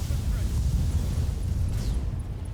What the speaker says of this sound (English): Ammo explosion, ammo explosion, ammo explosion.